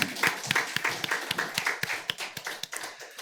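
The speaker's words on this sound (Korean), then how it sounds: "우리 동일한 마음으로 박수를 했습니다." A church congregation at a Sunday service claps together in a quick, fairly even rhythm of sharp hand strikes, close and moderately loud, tapering slightly near the end.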